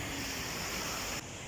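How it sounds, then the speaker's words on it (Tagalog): Surf washing onto a beach on a Sunday morning, a steady broadband roar of breaking waves with some wind noise, continuous and fairly close, without voices. "Ang ganda ng dagat."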